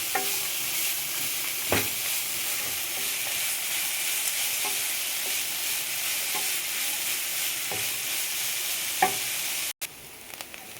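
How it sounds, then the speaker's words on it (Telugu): Grated carrots fry and are stirred in a pan for carrot rice, a steady sizzle with occasional spatula scrapes and clinks throughout, with no talking. "క్యారెట్ బాగా వేగాలండి, వాసన పోయే వరకు."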